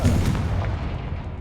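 The Confringo fire spell cast in the video game Hogwarts Legacy lands as a single dense, booming blast that rolls on briefly like distant artillery, loud and alone.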